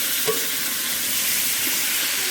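Tomatoes, green chillies and onions stirred through hot oil in a pot, cooked outdoors under a banyan tree: a steady close sizzle with a soft scrape and a small clink near the start.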